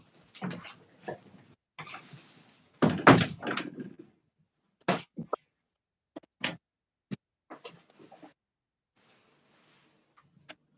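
A dog barks indoors at a home during a live sewing session, a burst of loud, rough barks in the first seconds, then scattered single sharp barks trailing off with pauses, fairly close.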